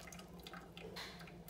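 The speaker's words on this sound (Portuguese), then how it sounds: "vai colocando bem um pouquinho a água" Water trickles into a thin-spouted stainless steel kettle in a steady, close, soft stream with light splashing, with no voices over it.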